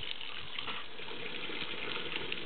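Water runs steadily from a tap as a pet drinks at it on her 10th birthday, a continuous near, even gushing stream with no speech.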